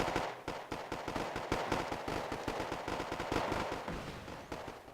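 Gunfire traded across a small barricade in Wargame: AirLand Battle, with dense, rapid bursts of shots crackling continuously and fairly distantly, and no voices.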